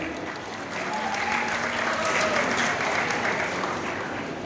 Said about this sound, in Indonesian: Tepuk tangan untuk para wali murid.